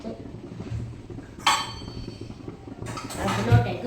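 A cooking pot is picked up and handled in a home kitchen, giving a couple of sharp metallic clanks against a quiet room background.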